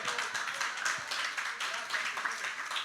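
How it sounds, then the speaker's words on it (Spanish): A church congregation claps in praise, a steady, moderately loud burst of many hands applauding together in a worship hall, with faint voices mixed into the clapping. "Denle un aplauso fuerte al Señor"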